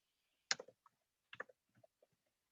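Faint typing on a computer keyboard, two short bursts of a few quick clicks each, with silence between them.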